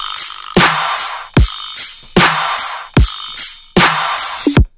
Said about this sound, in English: drums sound like this without the synth layer